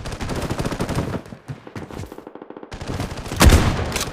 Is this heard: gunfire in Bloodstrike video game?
yes